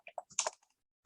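Quick bursts of keystrokes on a computer keyboard, typing a school name into a college sign-up form, several close clicks over about half a second followed by quiet.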